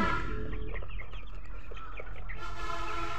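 A flock of poultry chickens in hot weather clucks and murmurs continuously at close range, their calls dense and overlapping against a steady low hum, with no voices.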